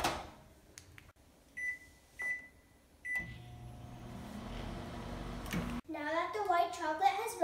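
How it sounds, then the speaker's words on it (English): A microwave oven hums steadily after a door clunk and three short beeps, melting chocolate in 20-second intervals, with someone talking over the end. "now we're gonna put it in the microwave for 20-second intervals"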